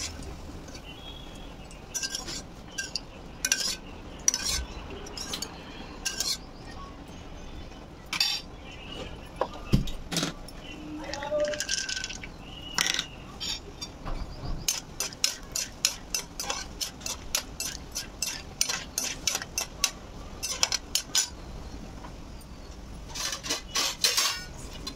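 Peanuts and curry leaves fried in a pan, heard as frequent close clinks and scrapes of a metal spoon against cookware over a faint steady background, sometimes in quick rhythmic bursts.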